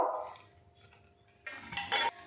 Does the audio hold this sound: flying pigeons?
no